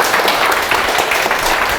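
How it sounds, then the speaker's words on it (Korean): An audience claps to welcome a lecturer before a talk on Jeong Yak-yong's leadership, giving dense, steady applause that fills the whole short stretch with no speech over it. "우리 강사님을 힘찬 박수로 환영해 주시기 바랍니다."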